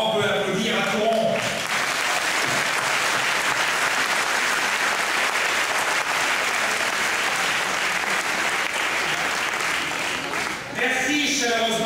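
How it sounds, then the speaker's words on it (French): A crowd at a 2008 political campaign rally breaks into loud, sustained applause, thick and even for about ten seconds before a speaking voice returns at the end. "Je crois qu'on peut applaudir à Coron."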